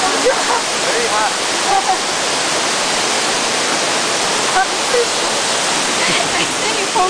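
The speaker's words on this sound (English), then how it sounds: "I got 10 minutes of pure waterfall." Hiji Falls, a waterfall in northern Okinawa, roars as a dense, steady wash of rushing water, loud and close, with no break for the full stretch.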